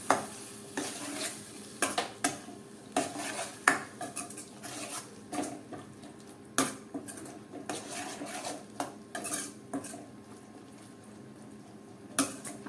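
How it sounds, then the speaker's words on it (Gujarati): Boiled green chickpeas with their cooking water go into a pan of spiced vegetable curry, with repeated clanks of a spoon against the metal pan and stirring scrapes over a faint sizzle, close and alone. "આપણે ઉમેરી દઈએ બાફેલા ચણા ચણાને પાણી સાથે જ ઉમેરવાના છે"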